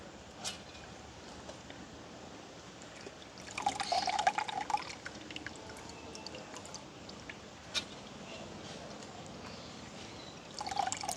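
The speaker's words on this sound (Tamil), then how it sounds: "இப்போ தண்ணியை நாங்கள் வடித்து போட்டு மிக்சி கப்புக்கு போடுவோம்" Water drains from soaked lentils into a kitchen vessel as a soft, steady trickle with dripping, swelling into a fuller pour partway through and again at the end, with no voices.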